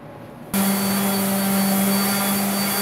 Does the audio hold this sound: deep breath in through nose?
no